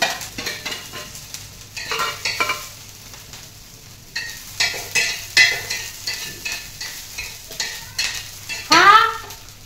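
Garlic stirred and frying in a pan at home, with a steady sizzle under repeated scraping strokes of a spoon and a few sharper clinks near the end; no one speaks.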